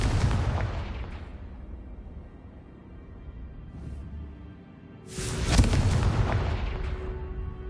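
A Confringo spell bursts in Hogwarts Legacy with a loud, booming explosive blast that decays into rumble. A second heavy burst follows a few seconds later.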